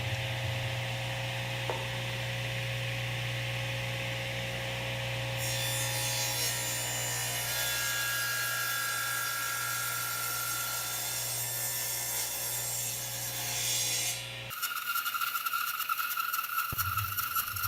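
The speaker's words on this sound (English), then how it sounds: "I've set the bevel on the table saw to about 15 degrees" A table saw with its bevel set to about 15 degrees cuts the top off a wenge and birdseye maple box, a long continuous whining cut over a motor hum, ending in a sharp shift as the blade clears.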